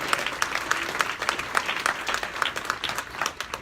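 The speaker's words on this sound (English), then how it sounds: "Give them a big round of applause." An audience at an awards event for a 30-and-under honoree class breaks into steady, dense applause, many hands clapping together at moderate distance with no talk over it.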